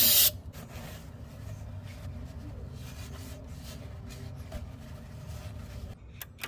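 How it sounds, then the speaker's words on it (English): Old gasket residue is scraped off a Volvo Penta trim pump mount, a continuous close rasping rub with fine scratchy texture, after a brief loud burst at the start and a sudden stop near the end. "before we install our new one, let's clean off the old gasket marks here."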